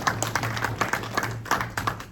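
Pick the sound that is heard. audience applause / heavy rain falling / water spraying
audience applause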